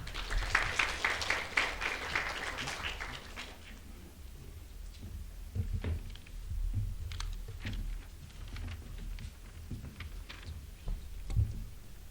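University admissions-info audience applauding at a business school session, a burst of clapping over the first few seconds that thins out into scattered claps, shuffling and faint room noise.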